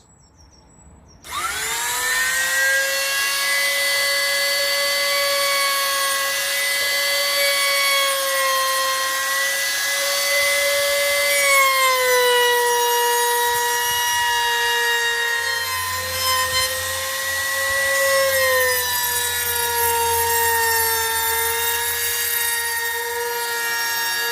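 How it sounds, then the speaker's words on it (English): A power tool chamfers the top edge of a wooden scaffold-board table, starting abruptly with a high, steady whine that shifts pitch slightly as it cuts, loud and continuous for over twenty seconds. "So now what I'm going to do is chamfer around the top edge, so it matches the chamfer around the side rails."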